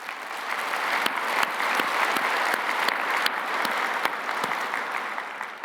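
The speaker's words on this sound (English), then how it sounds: "Give yourselves a round of applause for that." A conference crowd at a credit union gathering applauds, a dense, steady roar of clapping with scattered sharper claps, holding at an even level throughout.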